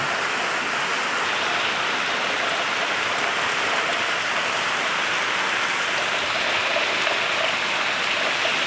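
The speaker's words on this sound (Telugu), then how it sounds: "నైట్ ఒంటి గంటకి ఎంత గట్టిగా పడుతుంది వర్షం అని బయటకు వచ్చి వీడియో అయితే తీసాను" Steady, heavy rain pours down at night in a continuous dense hiss, loud and unbroken throughout with no voices.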